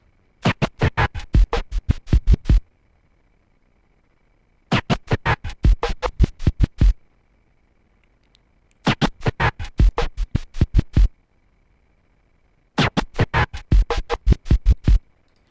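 Turntable record scratching in four separate bursts of rapid back-and-forth strokes cut into sixteenth-note patterns, each burst about two seconds long with silent gaps between, loud and close.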